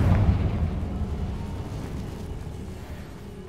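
Confringo fire spell exploding in the video game Hogwarts Legacy: a deep, booming blast that hits hard at the start and rumbles away slowly over a few seconds, with no other sounds.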